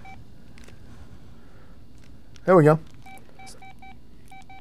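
A mobile phone's buttons beep several times in short, evenly spaced electronic tones, quiet and close, while someone speaks briefly in a quiet room.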